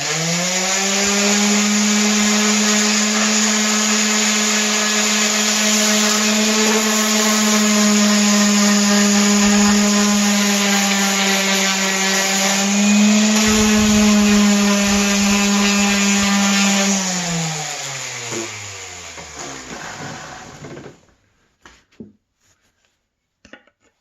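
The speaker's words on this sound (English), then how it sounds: "we're going to use a palm sander here and give her a little sand" A palm sander sanding a wooden axe handle whirs steadily for about seventeen seconds with a buzzing hum, then winds down and stops, leaving a few faint clicks.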